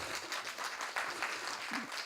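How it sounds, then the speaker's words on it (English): An audience at a panel discussion applauds in welcome, a fairly faint, steady patter of many hands clapping in a room, with a murmur of voices beneath. "Please give them a warm applause."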